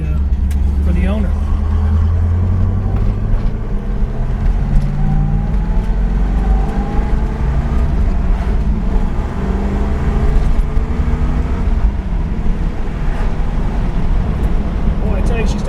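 A 1970 Chevrolet Camaro RS Z28 with a 360 hp numbers-matching engine, restored, idles and warms up, a loud steady rumble with shifting revs running throughout.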